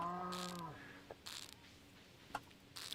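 Cows in the farming game Stardew Valley, a short low moo at the start followed by quiet game sound effects and soft chimes, faint overall.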